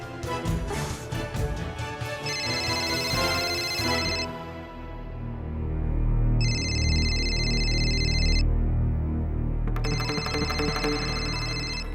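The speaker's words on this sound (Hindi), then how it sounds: "मालती का फोन" A phone rings in bursts of a bright electronic ringtone, sounding in two or three separate spells over a busy backdrop of dramatic music, with no talk.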